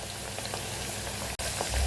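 Potatoes fry in hot oil with a constant close sizzling crackle, broken by one brief cut-out near the end, no voices.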